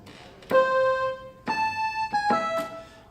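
Three sustained synth pad chords, each swelling in with a soft attack and holding smooth harmonic tones before the next begins; no voices.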